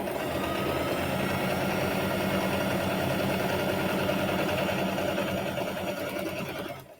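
A sewing machine runs continuously as it stitches fabric triangles together for half-square triangle quilt blocks, a steady close whirring hum without pause that tapers off at the very end.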